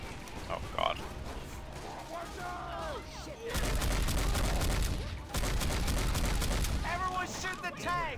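In Left 4 Dead 2, heavy automatic gunfire erupts against the Tank in two long, loud sustained bursts with a brief gap, while growls and voices sound before and after the shooting.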